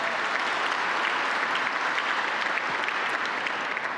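A large audience at an annual awards celebration at a workforce training center gives a speaker a sustained, loud round of dense applause that fills the whole stretch without pause.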